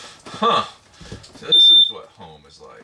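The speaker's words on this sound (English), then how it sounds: "That is the alarm again." A short, piercing electronic alarm tone sounds once between bits of close-up talk.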